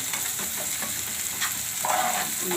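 Onions fry in a pan for a Manchurian recipe, with a close, steady sizzle and the scraping and clinking of a spoon stirring them, no voices.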